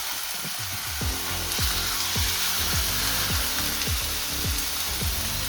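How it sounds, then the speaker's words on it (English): A burger patty sizzles steadily in olive oil in a pan, a dense close hiss throughout, with a low mechanical hum underneath that repeatedly sweeps downward in pitch. "Just mix it nicely, and you put the burger patty in."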